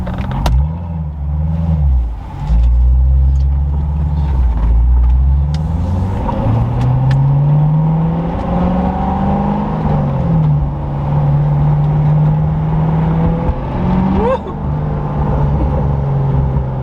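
A Chevrolet Corvette C7 on new wheels drives along a road, its engine droning loud and close as it rises and falls through gear changes, with tire and road rumble underneath the whole way.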